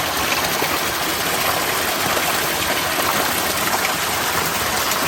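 Natural spring water in Jamaica runs steadily into a bottle, a continuous close-up gush and splash with a constant hissing rush and no pauses.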